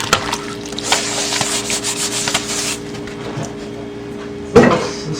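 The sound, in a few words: scrubbing with a Scrub Daddy sponge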